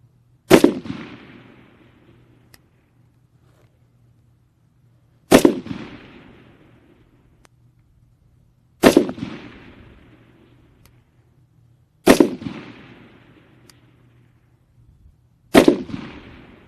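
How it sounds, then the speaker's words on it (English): Rifle fired five times at a range while zeroing, each shot a sharp, loud report with a short decaying tail, spaced about three to four seconds apart with quiet between. "Specialist Cleveland, let's go ahead and put up a good solid 5-shot group"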